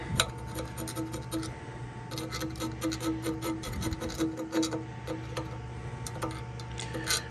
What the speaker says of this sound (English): I'm just going to take a file here, small file, and smooth up the edges a bit